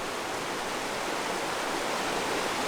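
A spring stream pours out of the bottom of a cave in a bluff at a creek source in the Ozarks, giving a constant, full rushing hiss of water, close and steady.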